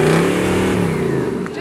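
A 4WD truck engine revs hard as it pushes through a muddy bog hole, a loud sustained roar that stays steady and close for the short stretch with no pauses.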